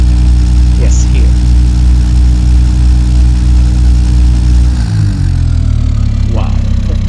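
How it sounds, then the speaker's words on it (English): An aggressive inline racing engine in the Automation game holds a loud, steady throb, then drops to a deeper, rougher idle for the final couple of seconds. "Wow, that sounds really, really mean, and wow, that's a racing engine."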